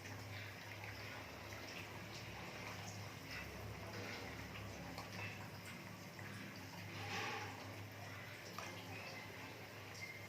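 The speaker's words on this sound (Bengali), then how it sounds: "দিয়ে দিচ্ছি জল।" Water poured into a pan of fish curry on a high gas flame, a steady faint splashing stream running throughout.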